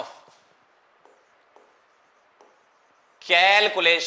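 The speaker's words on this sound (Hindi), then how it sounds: "अब मैं यहां लिख रहा हूं कैलकुलेशन" A teacher writes out a calculation by hand, producing faint, sparse scratching strokes in a quiet room before a voice begins speaking loudly at the end.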